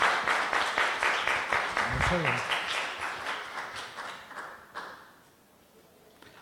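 Audience applause at a philosophy discussion event on the contemporary panopticon: a room full of people claps steadily, fading out after several seconds, while someone speaks over the start.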